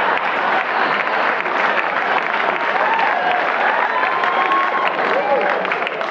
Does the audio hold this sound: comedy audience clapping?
yes